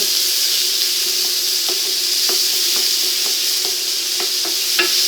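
Bell peppers, including yellow pepper, sauté in a pan over lowered heat, giving a continuous close sizzle and hiss with light scattered ticks of stirring.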